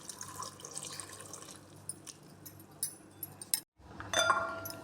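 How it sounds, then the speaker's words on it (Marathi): Water is poured into a cooking pot of dal with bottle gourd, chopped onion and tomato, heard as a close trickle with small clinks of metal or glass and a brief pause before a louder splash. "पाणी ॲड करा"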